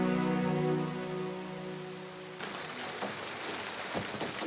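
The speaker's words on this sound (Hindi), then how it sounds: "रास्ते बंद है बारिश की वजह से" Rain falls steadily in a drama scene where the roads are closed by heavy rain, a dense hiss entering over a fading musical tone and continuing with scattered drops.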